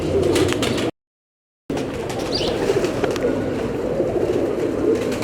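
Teddy-breed female pigeon coos steadily and close up, a low murmuring call with faint rustling and a brief dropout partway through.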